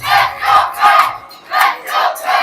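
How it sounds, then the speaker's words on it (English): Parents in the stands at a youth hockey game between Pittsburgh and Montreal cheer and chant in loud, rhythmic surges, roughly four swells in quick succession from a sizeable crowd. "The parents, both billet and biological, cheering on the boys in black"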